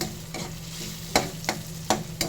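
Chorizo sautéing in a pan for corn soup, a steady sizzle broken by four sharp scraping stirs of the spatula at irregular intervals, close and clear with no talking.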